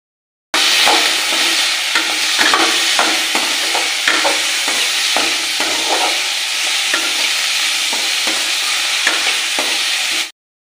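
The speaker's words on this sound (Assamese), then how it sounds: "এতিয়া মই এইখিনি অকণমান তেল অকণ দি পেলাই ভাজি ল'ম" Tomato, garlic, onion, chili and lentils sizzle and fry in oil for a chutney, with steady crackling and repeated stirring scrapes of a spatula in the pan, close and continuous without speech.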